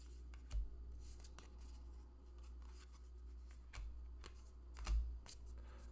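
Tarot cards shuffle in soft, rapid riffling bursts, with a few sharper snaps and slides close by over a quiet background, no voices.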